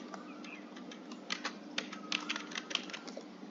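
Fast typing on a computer keyboard while entering a Linux terminal command, with irregular clicky keystrokes close by over a steady low hum, and no talking.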